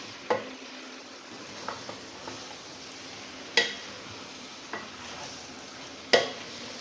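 Chopped tomatoes being stirred into minced keema frying in a pan, with a soft steady sizzle under several sharp scrapes and clinks of a spoon against the pan at irregular intervals.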